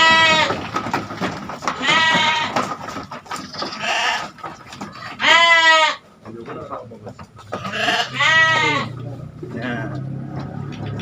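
Sheep being raised for competition bleat repeatedly nearby, loud wavering calls coming in bursts, with someone talking between and over them.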